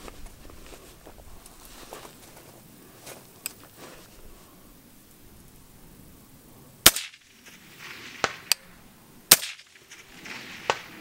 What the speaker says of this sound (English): we'll get you guys some footage of this rifle running suppressed